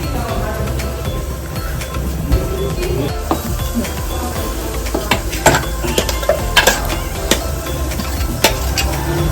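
Masala with cooked field beans simmers in a pot while a spoon stirs it, making a busy run of metallic scrapes and clinks over a low bubbling sizzle, close and fairly loud.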